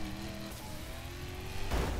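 A car engine in the racing game Burnout Paradise hums and revs through a drift, then a sudden burst of louder crash-like noise near the end, with no talk over it.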